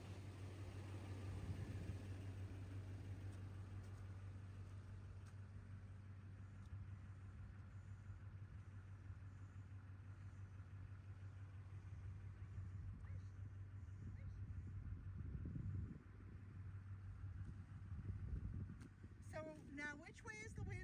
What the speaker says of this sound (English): as I got closer, I realized the truck was running, which really did not help because it's putting out a lot of fumes